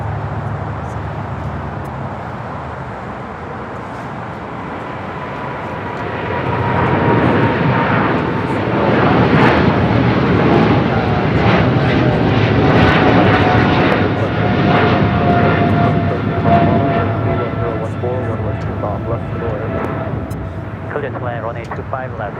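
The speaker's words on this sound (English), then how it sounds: "runway 25 right, clear for takeoff" Scandinavia 932 heavy airliner taking off from runway 25 right at LAX, the jet roar swelling after several seconds and holding loud and broad before easing slightly, with tower radio voices audible.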